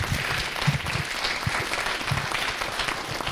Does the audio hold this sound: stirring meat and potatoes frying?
no